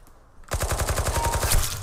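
Rapid automatic M4A1 rifle fire in a video game, a loud, evenly spaced burst of shots that starts abruptly after a quiet moment and rattles on steadily to the end.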